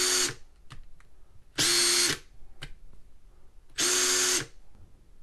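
A Makita hybrid hammer drill runs in three short bursts, each a loud high whine lasting about half a second, separated by quiet gaps with faint clicks of handling.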